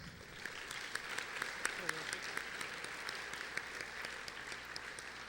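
A crowd at a senior awards ceremony applauds a named scholar, with a sustained wash of clapping and sharp individual claps cutting through, a voice faintly audible underneath.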